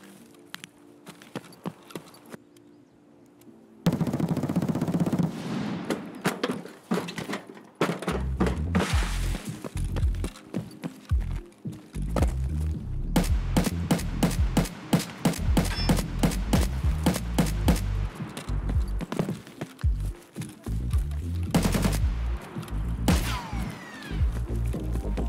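Video game gunfire in a multiplayer raid, with rapid bursts of automatic fire and sharp single shots crackling in clusters, loud and close, mostly without talk.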